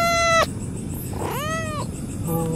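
A small cat meows loudly and close by near a playground, giving three distinct calls: a short one, a longer drawn-out one and a brief final one, with a faint background hum.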